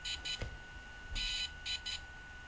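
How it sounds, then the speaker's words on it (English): A series of short electronic beeps from a DJI Phantom 3 drone signalling a completed firmware upgrade, high and clear, in quick groups of two or three against a quiet room with a faint steady tone. "Now that we're hearing the beep, beep, beep, that signifies that the firmware upgrade is complete"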